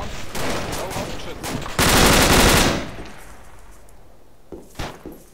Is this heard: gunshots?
yes